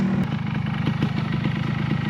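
A Suzuki motorcycle ridden along a trail, its engine holding a steady throbbing drone with a fast regular pulse, close and loud throughout, no voices.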